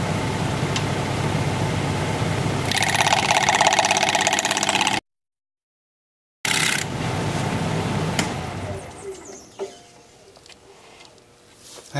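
A wood lathe spinning a rectangular winged bowl at about 1,000 RPM, a steady loud mechanical hum and whir with a brief cutout in the middle, then fading and unsteady toward the end.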